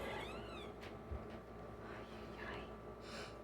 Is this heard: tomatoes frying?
no